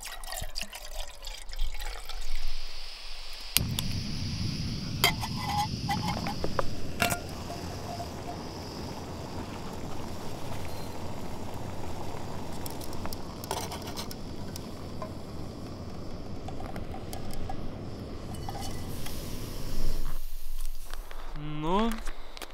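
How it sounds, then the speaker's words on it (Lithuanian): Portable camping stove heating water for coffee outdoors on a winter hike, a steady roar and bubbling hiss running throughout, with brief clinks and handling noises and a quieter stretch at the start and end. "bet ant jos dabar dėsiu savo viryklytę, bus paprasčiau ir greičiau ir išsivirsiu kavos"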